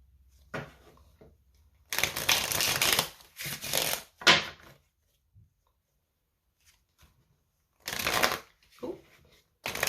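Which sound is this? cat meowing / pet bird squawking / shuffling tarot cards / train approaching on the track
shuffling tarot cards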